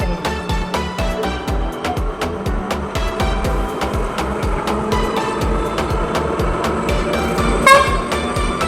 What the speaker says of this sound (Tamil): அது ட்ரெயின் தானேப்பா?